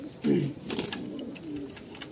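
Pigeons at a pigeon market give a brief low coo up close, followed by fainter murmuring coos amid soft market background noise.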